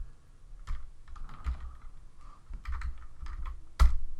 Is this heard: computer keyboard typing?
yes